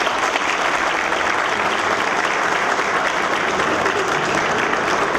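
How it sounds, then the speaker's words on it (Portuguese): Steady, dense applause from a lecture audience at a labor-law talk, continuous and even throughout with no pauses. "Eu gostaria de uma salva de palmas para a doutora."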